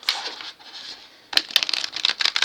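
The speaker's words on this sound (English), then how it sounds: "Shuffle on screen for y'all. My chewed up cards." Worn, chewed-up tarot cards being shuffled close by, a soft riffle followed by a pause and then a burst of quick papery flicks and slaps.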